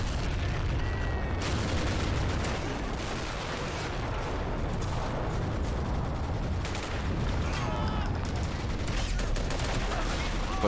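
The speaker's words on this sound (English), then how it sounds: "Only the Greys would have a machine gun like that. 2 MG42s." Two MG42 machine guns firing in the Men of War video game during a mountain assault, sustained rapid bursts mixed with dense gunfire and artillery booms that fill the whole stretch loudly.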